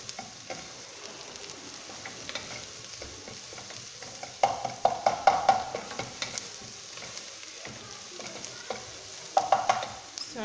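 Garlic and onions fry in a pan, a steady close sizzle broken by a few short bursts of louder crackling and spattering, with no talking.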